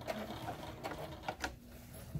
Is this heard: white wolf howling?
no